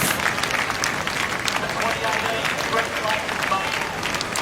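A beach crowd at the Rip Curl Pro Bells Beach surf final claps and cheers in a steady, fairly faint wash of applause, with a voice talking over it.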